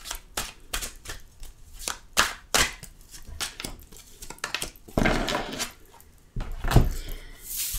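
A deck of oracle cards is shuffled by hand in a series of sharp, close slaps and riffles at an uneven rhythm, with a couple of denser bursts toward the end, no talking.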